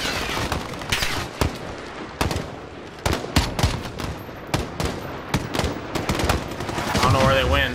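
Gunfire in the video game Call of Duty: Modern Warfare: dense bursts of rapid automatic shots and single cracks, loud and close, repeating throughout with a rising rumble at the end.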